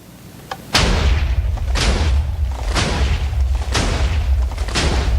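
A string of heavy TNT explosions in Minecraft booms out one after another at a steady pace, each a deep, loud blast with a rumbling tail, quarrying terracotta in a mesa.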